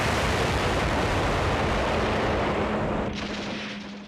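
A massive, rumbling roar of explosions aboard the aircraft carrier USS Franklin fills everything with dense, continuous noise that slowly fades toward the end, sounding distant and overwhelming, like archival wartime footage.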